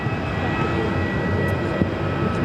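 A Delta A330 airliner takes off from runway 7 left at Phoenix Sky Harbor, a steady broad engine roar heard from some distance.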